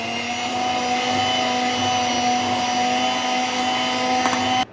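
An electric hand mixer whirs steadily as it blends cream with a melted chocolate mixture for homemade chocolate ice cream, a constant motor drone that holds for nearly five seconds and then cuts off abruptly.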